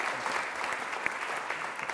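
Audience applause in a lecture hall after two talks, steady dense clapping from a sizeable crowd throughout.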